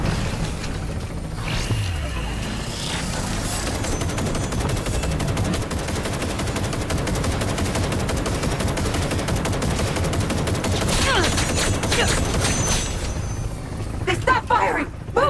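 Sustained automatic gunfire in Cyberpunk 2077: Phantom Liberty rattles almost continuously through a firefight, loud and close, with heavier bursts and impacts near the end and shouted voices over the shooting.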